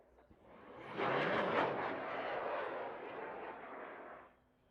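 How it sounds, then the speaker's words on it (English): Distant rocket liftoff at an outdoor launch pad during a Texas rocketry competition, a broad roaring rumble swelling in quickly and holding steady for about three seconds before fading away. "We are launching in 5, 4, 3, 2, 1. We have liftoff."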